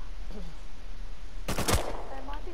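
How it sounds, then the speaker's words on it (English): Gunfire in the survival video game Rust: a short, loud burst of shots packed into about a quarter second near the end, standing out from a steady background hum. "I'm gonna shoot him."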